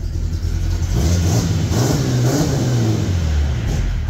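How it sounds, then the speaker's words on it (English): A car engine revs repeatedly under the gas pedal, surging and easing in several rising pulses over a constant low rumble, loud and close throughout. "listen to when I rev it"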